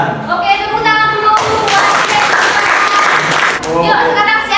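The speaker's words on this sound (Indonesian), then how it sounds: "tepuk tangan dulu" A classroom of students breaks into a loud, dense round of clapping for about two seconds during a guidance lesson. A teacher speaks just before and right after it.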